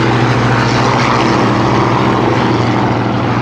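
A Vickers Supermarine propeller aircraft takes off from a grass airfield at Duxford, its engine a loud, steady, continuous drone with a low throbbing hum throughout.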